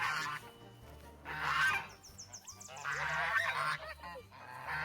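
Several geese honk loudly nearby in repeated bursts, harsh calls overlapping and pausing briefly between outbursts.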